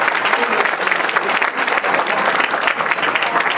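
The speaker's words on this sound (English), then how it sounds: "Let's give one more big round of applause for this wonderful kid." Audience at a children's event applauding a young performer, a loud, sustained round of dense clapping with steady intensity throughout.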